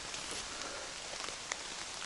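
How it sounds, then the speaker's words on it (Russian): Steady rain falling during a jet-boat river trip, an even close hiss of drops with a few sharper splats, no voices. "Все, дождь захерачил."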